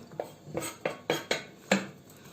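Several quick clattering drops of roughly chopped zucchini landing in a metal pot, six or so soft knocks in an uneven rhythm, close by.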